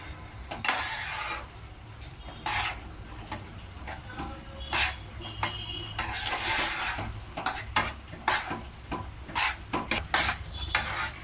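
Coarse-grain semolina cooking in milk in a pan is stirred with a utensil, giving irregular scraping strokes and clinks against the pan over a soft background bubble.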